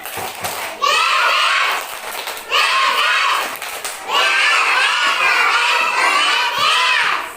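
A group of children loudly shout the Indonesian 'tepuk semangat' chant in unison, with clapping, in three energetic bursts with short breaks between.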